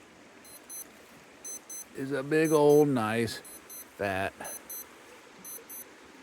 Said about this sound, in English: You can hear my alarm going off here telling me to get up.